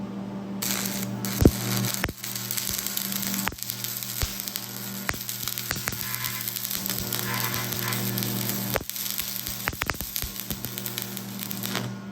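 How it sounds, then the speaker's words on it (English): Arc welding on a metal floating bookshelf bracket gives a steady crackling sizzle with a constant electrical hum, broken by several short sharp pops and bursts, close up with no talking. "Not perfect, but just weld it on."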